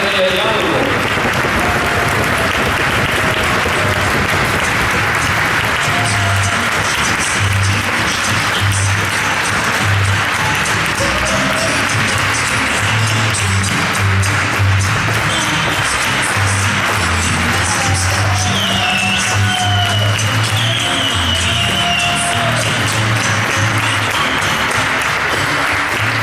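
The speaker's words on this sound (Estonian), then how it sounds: "Tohutult suure aplausi meie vabaklassi finalistidele ja kus on teie jalad?" A concert-hall audience at a competition claps loudly and continuously for the free-class finalists, with dense sustained applause and low thumping of stomping feet throughout, alongside some crowd voices and music.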